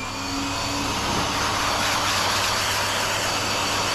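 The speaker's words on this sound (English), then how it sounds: "Big test, the blow dryer." A pet blow dryer on its minimum setting, used while grooming a Bernese Mountain Dog, gives a steady, fairly loud whooshing hum that runs unbroken throughout with no talking.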